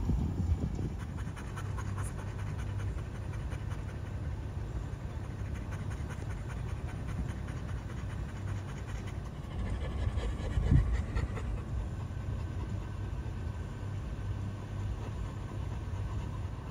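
A dog pants heavily and steadily close by on the Everglades Loop Road, a continuous rhythmic breathing over low rumbling background noise, with a brief louder thump near the end.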